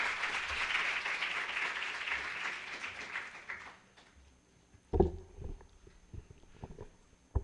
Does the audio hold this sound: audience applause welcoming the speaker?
yes